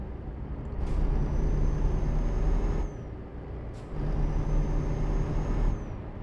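An older Volvo truck in Euro Truck Simulator 2 rolls along with a steady low engine drone, punctuated by two sharp air brake hisses that trail off in a fading whistle.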